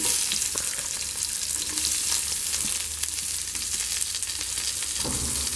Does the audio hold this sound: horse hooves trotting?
no